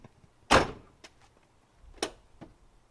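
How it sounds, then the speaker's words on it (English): A car door on a Trans Am build opens with a loud thunk, then a squeak and a second bump follow, close and clear, with no talking. "Another door opens and squeaks."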